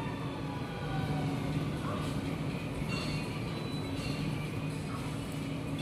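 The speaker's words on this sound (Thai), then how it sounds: "มาอีกขบวนหนึ่งแล้วค่ะ" A train pulls through a busy Bangkok station, its steady rumble and wheel noise loud and continuous across the whole stretch, with faint squeals above.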